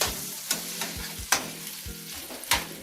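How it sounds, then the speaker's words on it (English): Potatoes fry in a pan with a gentle sizzle while a spatula stirs them, giving several distinct scraping strokes and three sharper clacks against the pan, close and without speech. "Potatoes are still cooking nicely. Just stirring them around a little bit."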